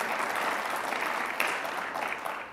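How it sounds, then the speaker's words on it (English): A conference audience at the Road to Majority Conference breaks into dense, sustained applause, loud and continuous before slowly thinning. "And you should clap"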